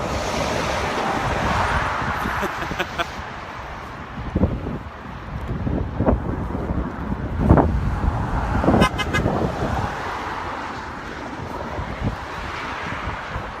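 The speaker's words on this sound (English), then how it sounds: "I'm getting honks, I'm getting waves." Car horns honk several times from passing traffic outdoors, short toots scattered over steady wind and rushing road noise.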